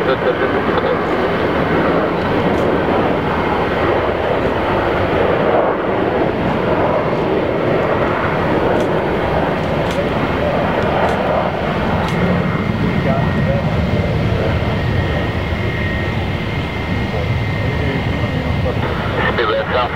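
An airplane at Milan Malpensa Airport rumbles in a steady, loud, sustained engine roar for the whole stretch, while radio voices talk over it.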